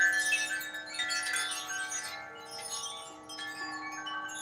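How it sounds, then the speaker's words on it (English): Wind chimes ringing outdoors on a spring day, with several clear metallic tones that overlap and sustain, fairly close and fading slowly. "hopefully these chimes aren't too loud."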